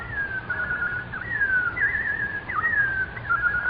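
A whistled robin song from a radio drama: a single clear, warbling whistle line with small slides and chirpy dips, carried steadily for a few seconds over a faint low hum.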